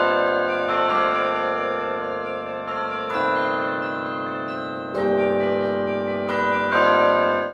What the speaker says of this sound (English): the treble bells, while they can't carry a melody as well, they do a great job of executing faster rhythms